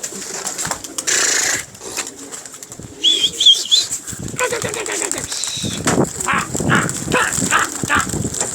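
Pigeons bursting into flight with loud, close flurries of flapping wings, bird calls in between, and someone talking over the commotion.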